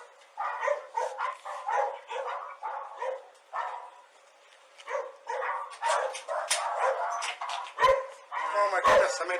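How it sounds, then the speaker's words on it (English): Several puppies bark and yip excitedly behind a door in a burst of overlapping high yaps, with someone talking over them. "Sounds like they got a lot of puppies"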